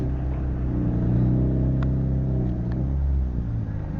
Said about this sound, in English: All of the cars reversing in into their grid spots.